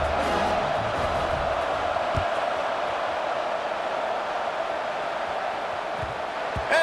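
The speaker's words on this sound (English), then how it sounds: "this crowd is buzzing after that last score" A college football stadium crowd buzzing after a touchdown, a broad, sustained roar of many voices that holds steady and distant, with no single voice standing out.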